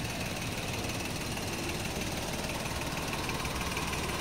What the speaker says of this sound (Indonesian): Teman-teman bisa dengar sendiri untuk irama mesinnya masih standar.